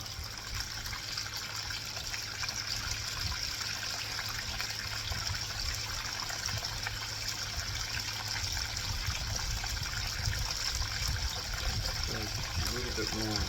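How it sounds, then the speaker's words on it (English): Water trickles and splashes into a gold trommel during a test run in Athens, Michigan, a steady low wash with mechanical hum beneath and a brief voice near the end. "Maybe a little more water."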